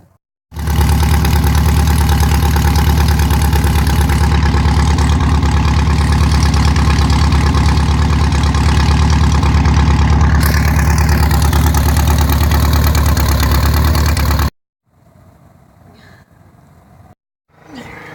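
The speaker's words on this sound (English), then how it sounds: "66 cc engine with a chain drive" A 66cc chain-drive engine on a motorized bike runs close and loud with a steady, buzzy drone for about fourteen seconds, then cuts off into near quiet.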